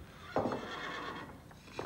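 A horse whinnies in a short, loud burst, a second fainter neigh following near the end, with no talk over it, set within a TV advertisement for bran breakfast cereal.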